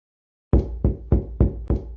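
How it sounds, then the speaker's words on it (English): Five heavy thudding knocks strike a door in a steady rhythm, loud and close with a booming low end, each blow ringing briefly before the next, with no voices. "I carried on with my thudding until my hands hurt"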